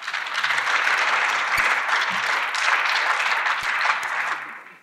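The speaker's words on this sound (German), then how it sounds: "Tosender Beifall für die Menschenwürde von allen anwesenden 6 Europaabgeordneten" Sustained, dense applause from European Parliament members in the chamber, a steady roar of clapping that holds for several seconds and fades slightly at the end.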